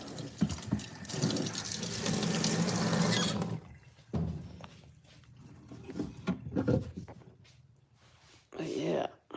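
Water poured and sloshing into an ultrasonic cleaner, a loud splashing fill for a few seconds that stops abruptly, followed by intermittent clatter, handling noises and brief bursts of liquid, with a person talking in between.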